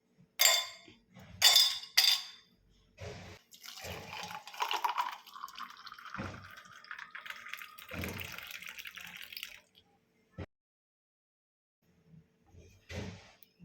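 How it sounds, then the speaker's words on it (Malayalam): Four ice cubes clink sharply into a glass of watermelon juice in quick succession, followed by softer liquid swirling and a few faint knocks. "ഇതിലേക്ക് ഒരു 4 പീസ് ഐസ് ക്യൂബ് ഇടാം"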